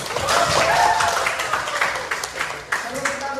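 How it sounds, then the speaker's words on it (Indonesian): A group claps together in a dense, continuous round of applause at a teacher-training performance assessment, fairly close, with voices mixed in underneath. "tepuk tangan untuk kita semua"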